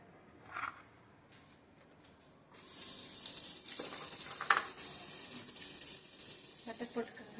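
Butter melting and sizzling in a pan for an omelette, a steady close hiss that starts a few seconds in after brief quiet clatter and continues with faint scraping.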